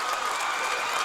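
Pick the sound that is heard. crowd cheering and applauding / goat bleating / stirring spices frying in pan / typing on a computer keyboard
crowd cheering and applauding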